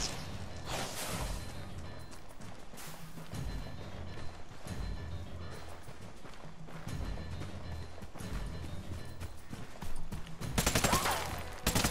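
Gunfire crackles through a firefight in Tom Clancy's Ghost Recon, with repeated bursts and single shots mixed with game noise, rising into a loud volley near the end.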